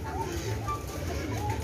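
Owl pigeons coo at a farm in low soft repeated calls, heard close, with people talking faintly in the background.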